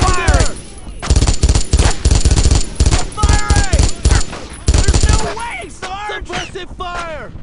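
Loud rapid gunfire in the World War II shooter Brothers in Arms: Road to Hill 30 at the Foucarville blockade, repeated close bursts of rifle and machine-gun shots in quick rhythm, with shouted voices between volleys.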